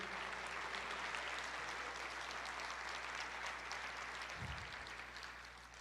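A church congregation applauding together, a steady wash of clapping filling the room throughout, with a low steady hum underneath and a brief low thump near the end.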